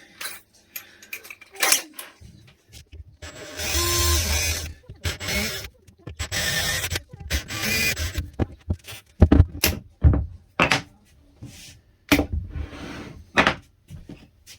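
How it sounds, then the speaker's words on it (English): A handheld drill bores holes through parts for a small bench-top palm router table, with several short bursts of whirring broken by clunks and handling knocks, all close by. "Great, so I can drill through those."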